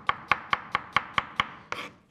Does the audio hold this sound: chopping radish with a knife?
yes